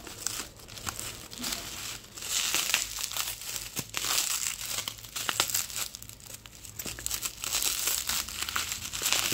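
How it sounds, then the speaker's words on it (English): Wrapping paper crinkles and tears continuously as it is pulled off models packed inside plastic boxes, with close, busy rustling and occasional sharper crackles and no talk. "he's put like wrapping paper around the models inside the plastic boxes"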